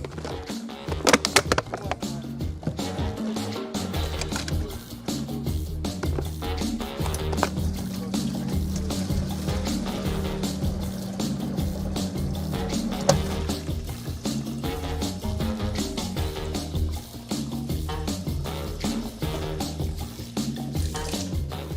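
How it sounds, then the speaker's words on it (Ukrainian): Tap water pours into a clean plastic bottle, a long continuous stream with rising gurgling tone, accompanied by clinks and handling knocks nearby. "В одну тару ми наберемо з крану, а другу з автомату."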